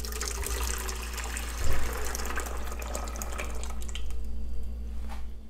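A blended tomato mixture is poured into a cooking pot for shrimp broth, giving a continuous liquid splashing and trickling sound with one brief louder slosh near the start, steady and close throughout.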